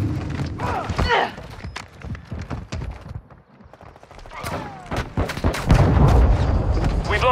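Gunfire and explosions in the video game Call of Duty: Modern Warfare II, scattered sharp shots and deep booms across a noisy battlefield, dipping briefly before a louder rumbling blast.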